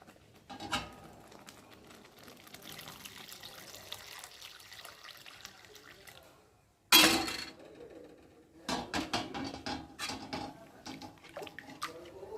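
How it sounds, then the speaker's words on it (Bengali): Water is poured into mashed lentil dal in a pot, with a gentle splashing pour, a short pause, then a louder burst of pouring and sloshing up close. "আর এখন আমি পরিমাণ মতো জল দিয়ে দেব।"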